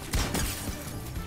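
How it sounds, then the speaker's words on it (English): A Fortnite shield cracks with a brief, sharp shattering burst and a short crackling tail, fairly loud and over in about a second. "That's a crack."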